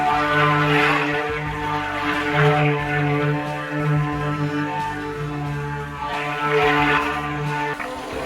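A cordless stick blender runs while mixing a large batch of amber and oakmoss soap, giving a steady droning motor hum that rises and falls slightly as it works, close and continuous.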